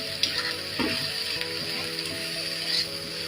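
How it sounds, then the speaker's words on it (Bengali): Onion and garlic, both local and Indian garlic, frying in a pan for a dried-fish chapa shutki bharta, giving a steady close sizzle with faint clinks of stirring throughout. "এখন এগুলো একটু ভেজে নিব"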